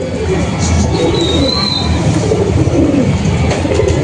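Madras pigeons cooing softly in a steady low murmur, with continuous background noise and no voices.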